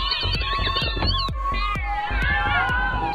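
A group of kittens meowing repeatedly in overlapping, high-pitched cries, close and fairly loud, with several voices calling at once throughout.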